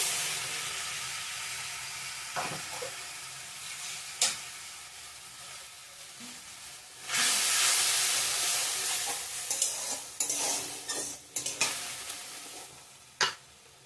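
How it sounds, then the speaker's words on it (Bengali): Potato and paneer curry with pasted tomato and water being stirred and sautéed in a pot, a quiet sizzle broken by irregular spatula knocks and scrapes that build into a louder, busier bout of stirring toward the end. "ভালো করে কষিয়ে নিচ্ছি"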